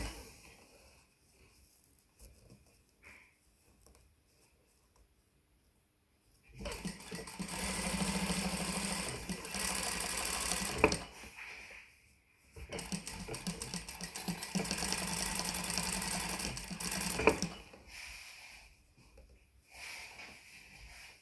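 A sewing machine stitches folded trim at a faster speed, running loud and steady for about five seconds at a time in two long bursts, with quieter pauses between and before them.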